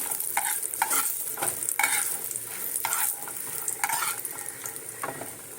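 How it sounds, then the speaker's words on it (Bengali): Lentil dumplings (bori) frying in oil in a pan, a steady close sizzle with intermittent stirring scrapes and clinks, no speech. "বড়িগুলো একটু ভেজে তুলে নেব।"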